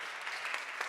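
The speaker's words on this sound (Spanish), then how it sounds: "Un aplauso para mí." Brief steady wash of audience applause at a podcast conference talk in Spain, dense and fairly distant, with no voices.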